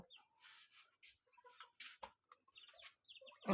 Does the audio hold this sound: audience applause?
no